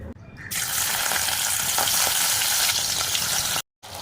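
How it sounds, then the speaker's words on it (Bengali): Chili prawns fry in white oil in a wok, giving a loud, continuous sizzle that swells in after a brief quiet start and cuts out for a moment near the end before returning. "একটু লাল লাল করে ভেজে নেবেন আর কি।"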